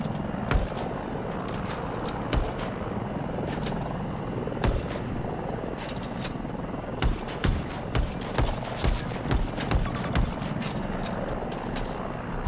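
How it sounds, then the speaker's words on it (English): In the Battlefield 2042 video game, a helicopter comes in with a continuous loud rotor rumble. Sharp, irregular gunfire-like cracks break through the noise throughout. "Friendly chopper coming in."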